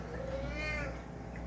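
A single house cat gives one short meow at moderate distance, faint over a steady low room hum.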